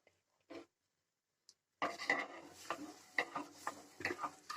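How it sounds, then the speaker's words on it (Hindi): Half a litre of milk poured into a hot kadhai over a medium flame starts after a short quiet gap, giving a faint, steady hiss dotted with small ticking crackles that lasts to the end. "अब कढ़ाई गरम हो गया, इसे आधा लीटर दूध डालेंगे। वो भी मीडियम फ्लेम पर।"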